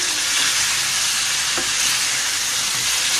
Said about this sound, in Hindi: अब ये अदरक लहसुन का पेस्ट डाल के हमें अच्छी तरह भूनना है इसको।